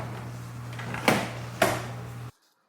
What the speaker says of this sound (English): you're going to go ahead and unclip all of these wiring harnesses right here so we can pull the door panel apart